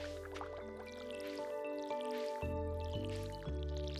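Crops are watered in the video game Stardew Valley, with soft dripping splash effects over a looping melodic game soundtrack that plays quietly throughout.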